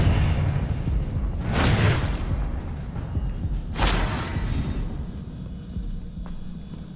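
Two heavy, booming blasts from the Confringo fire spell in Hogwarts Legacy land about two seconds apart over a low ambient hum, followed by a quieter stretch and a faint later thud, with no voices.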